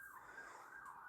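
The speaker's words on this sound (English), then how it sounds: "if you can hear the sirens in the background." An emergency vehicle siren wails outside in Manchester, a faint, distant rising and falling tone heard through a room, quiet and with no speech.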